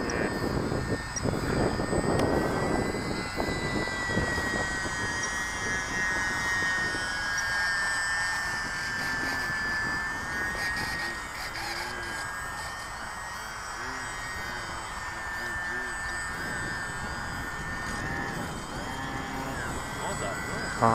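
A radio-controlled MXS-C model airplane on a 3-cell battery flies at a club field, its high electric motor whine rising and falling continuously while people talk nearby.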